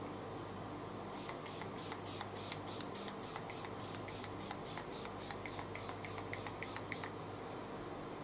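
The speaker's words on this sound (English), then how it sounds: "you could use this as a primer spray if you're travelling and didn't want to take too much with you" Rimmel Insta Fix and Go setting spray misted onto a face, about seventeen short hissing pumps in a quick, even rhythm, close and clear over quiet room noise with no talk.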